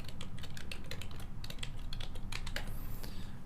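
Fingers tap out a password on a computer keyboard, a quick irregular run of close, crisp key clicks with a brief pause partway through, and no one speaking.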